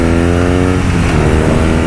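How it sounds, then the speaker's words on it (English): BMW R nineT Racer boxer twin motorcycle engine running loud and steady at close range, a dense continuous drone with strong low harmonics and no pauses, no voices over it. "I must say these BMW boxer motors are legendary as well as iconic."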